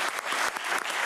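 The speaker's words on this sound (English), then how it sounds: "How about a round of applause for her?" A short burst of clapping from a small group at a city council meeting, brisk and moderately loud, with no voices over it.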